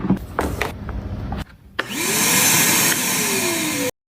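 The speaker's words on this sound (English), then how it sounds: "With the shop vac?" A shop vac starts with a clunk and whine after some knocking and handling noises, then runs loud and steady for about two seconds before cutting off abruptly.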